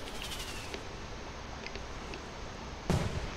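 A virtual firework goes off on a night beach in the game Anyland, one sudden muffled boom near the end after a steady low background hum.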